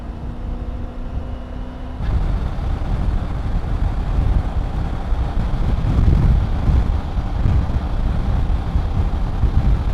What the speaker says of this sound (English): it's certainly been a battle with the wind. It's strong.